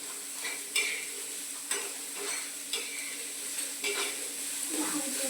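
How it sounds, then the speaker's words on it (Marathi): Onions sautéing and being stirred in a pan in a home kitchen, a steady close sizzle broken by repeated scraping taps of a spatula at irregular intervals, with no voices. "बघा कांदा टाकते मी"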